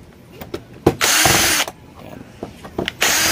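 A power screwdriver backs rusty screws out of an LED TV that has a flickering double-image screen fault, giving short loud whirring bursts separated by quiet pauses and small clicks.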